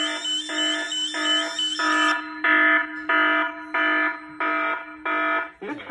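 A fire suppression system test panel sounds its alarm: a steady high tone at first, then loud repeated beeps in an even rhythm, about nine pulses, with no talk over it.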